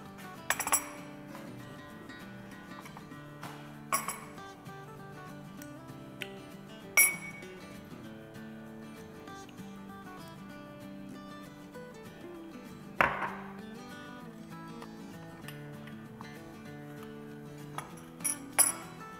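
Utensils clink sharply against a bowl as homemade chutney is dished out, a handful of scattered, isolated metallic taps and scrapes over a quiet background with soft music.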